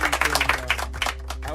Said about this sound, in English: Do we have a hand clap for that?